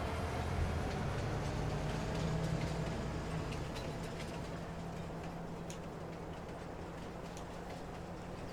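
A train rolls past in the Farming Simulator 22 game on the Elmcreek map, a steady low rumble with faint clickety-clack and metallic ticks that holds for several seconds and eases off slightly toward the end.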